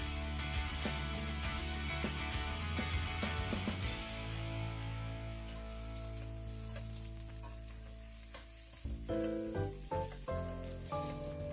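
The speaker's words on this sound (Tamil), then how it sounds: "ஒரு கப் நல்லா பொடியாக நறுக்கின வெங்காயத்தையும் ஆட் பண்ணி நல்லா வதக்கிக்கலாம்." Steady sizzling of finely chopped onions frying in hot oil, with crackles and some clinks and scraping near the end.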